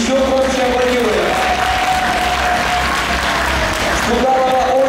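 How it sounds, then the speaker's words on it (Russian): Loud, dense applause fills a concert hall after a vocal group performance, a continuous roar of clapping under a sustained tonal voice or held note that rises and dips across the moment. "друзья, еще громче аплодируем."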